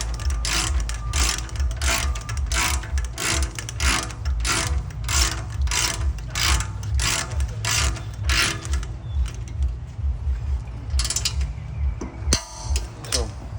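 A ratchet tightens wheel bearing bolts on an Audi A4, giving a fast, loud, steady series of clicking strokes for several seconds before the rhythm breaks into a few slower, irregular clicks and clunks.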